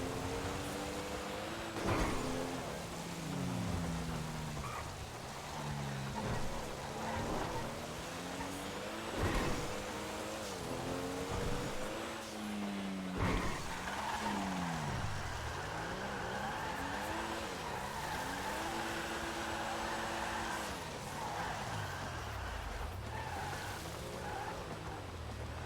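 A car engine revving and driving hard, with pitch sweeping up and down through gear changes and occasional tire squeal, loud and continuous throughout.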